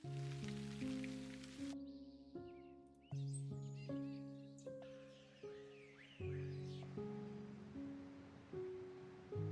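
Steady rain ambience from the Stardew Valley video game, a soft hiss under louder melodic game music with changing notes throughout.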